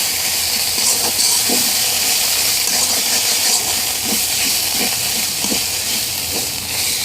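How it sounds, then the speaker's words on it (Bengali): Spice paste and onions for a mutton curry fry in a pan, giving a steady, loud hiss and sizzle with soft periodic stirring knocks throughout, no voices over it. "একটু নেড়ে চেড়ে পেঁয়াজের সাথে ভালো করে মশলাটাকে কষিয়ে নিচ্ছি।"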